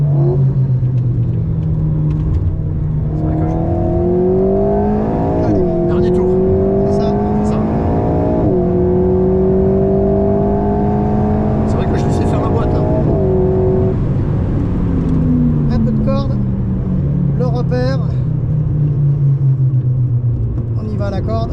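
Ferrari on a race track, its engine climbing through the revs under acceleration in several rising pulls with shifts between them, then easing off and dropping in pitch; steady, close in-car rumble with a man coaching throughout.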